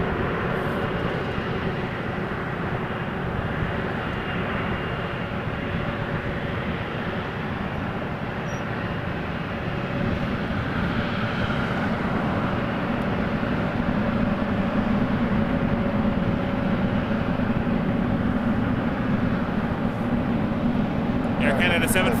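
Air Canada Boeing 737 MAX 8 jet taking off from Toronto Pearson Airport in freezing weather, a steady loud roar of engine thrust that holds and swells slightly over twenty seconds, with faint talk beneath.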